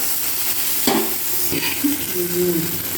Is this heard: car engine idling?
no